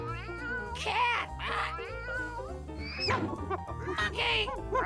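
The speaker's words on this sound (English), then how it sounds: "Cat." Cartoon cat meows in a toddler animal-learning sequence, a handful of drawn-out, wavering mews repeated over steady background music, close and prominent.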